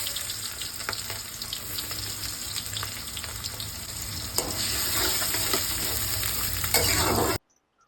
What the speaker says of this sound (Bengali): কড়াই তেল দিয়েছি জিরে ফোড়ন দিলাম পেঁয়াজ দিয়ে দিলাম